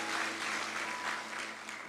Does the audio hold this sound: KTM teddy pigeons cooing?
no